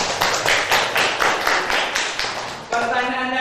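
A short burst of rhythmic clapping from students in a classroom, with hands striking in roughly even beats before it stops abruptly and a voice begins talking.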